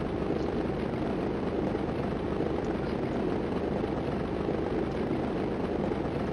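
A plane engine in the Stunt Island video game runs at full throttle, a loud, constant droning roar that holds steady without pause and with no talking over it.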